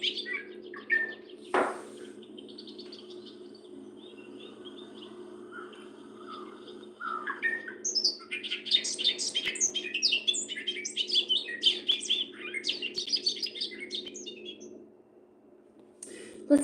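Bobolink song played back from a recording: a rapid, bubbling jumble of high metallic chirps and warbles, fairly loud over a steady low hum, after a few scattered calls at the start.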